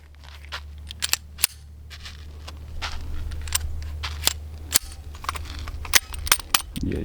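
Cartridges being pressed into a Hellcat Pro pistol magazine, ten rounds in all, give a series of close, crisp metallic clicks at an uneven pace over a low steady background hum.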